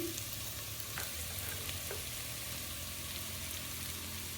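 Mint and coriander leaves with spices sautéing for a jackfruit veg biryani, a soft, steady sizzle with a couple of light spatula taps, faint and even throughout.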